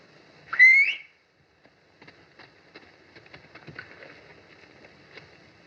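A person whistles once to call a horse, a single short rising whistle that is loud and close. It is followed by soft scattered taps and rustling that may be hoof sounds.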